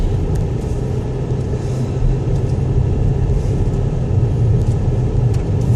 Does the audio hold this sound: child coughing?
no